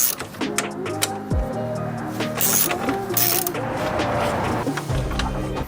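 A ratchet wrench clicks and whirs close by as it spins out 13 mm bolts on a flood-damaged car, in short mechanical bursts with a few brief pauses.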